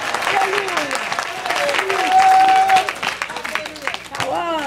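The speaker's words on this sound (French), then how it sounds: "Vous avez maintenant applaudissement pour Jésus ça soir" At a church service, a congregation claps steadily in loud, sustained applause, with a preacher speaking French over it and musical tones rising and falling in the background.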